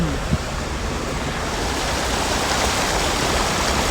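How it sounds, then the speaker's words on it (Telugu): Strong, forceful rush of water in a rocky forest stream after rain, a steady loud roar filling the whole stretch, close and continuous with no talk. "ఫోర్స్ ఉందిరా బాగా వాటర్"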